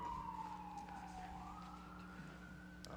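A siren passes outside a city council committee meeting in Akron, wailing with its tone sliding down and then up, fairly faint and steady for a few seconds with no talking.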